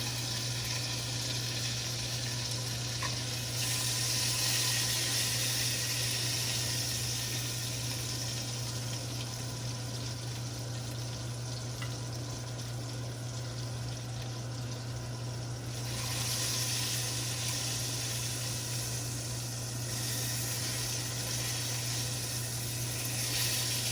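Lamb chops sizzling in a cast iron skillet, a steady, fairly quiet hiss and crackle that continues throughout with a constant low hum behind it.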